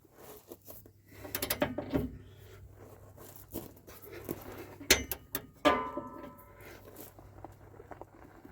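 Ratcheting clicks from a torque wrench tightening trailer hitch bolts on a 2004 Ford F-350, spread over several close, irregular bursts with metallic clatter and handling noise between them.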